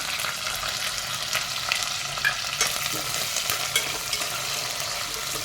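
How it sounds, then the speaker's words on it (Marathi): Onion and curry leaves frying in hot oil with cumin, a dense close sizzle and crackle that holds steady throughout, broken by light spatula stirs, with no talking. "कांदा आपण थोडासा भाजून घेऊ"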